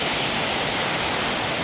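Steady rain pouring down at home in the eleventh month of the year, a dense, even hiss of drops that continues unbroken without any voices.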